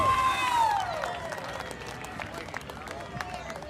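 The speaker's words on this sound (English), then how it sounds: "How about a round of applause?" A dirt-track crowd at a late model race claps and cheers for the winner, a broad wash of applause heard under a loud announcer's voice.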